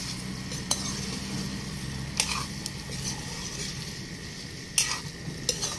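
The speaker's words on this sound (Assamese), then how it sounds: "এতিয়া মটৰখিনি দি অকণমান লৰাই দিম" Peas being stirred into pork frying in a pan make a steady, close sizzle, with scraping stirs and a few sharp utensil clinks against the metal throughout.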